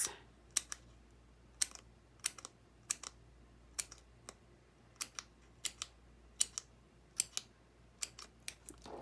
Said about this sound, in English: And make little snips.